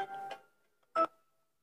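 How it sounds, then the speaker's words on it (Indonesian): Telephone dialing tones: two short electronic beeps separated by a pause, clean and close against silence. "Wah, Bung Karno telepon."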